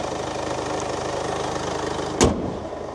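A Mercedes-Benz diesel car with a 2143cc engine and front-wheel drive runs at a steady idle, giving a close, even rumble with a low throb and one brief knock partway through.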